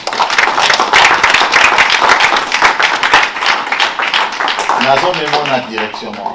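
Church congregation clapping and cheering in a dense, continuous wave of applause, with voices shouting over it and a sung or spoken line rising near the end.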